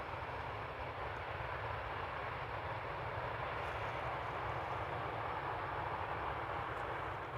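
An EasyJet airliner passes at Amsterdam Schiphol Airport, heard as a steady, broad jet engine roar with a deep rumble, constant and fairly distant throughout.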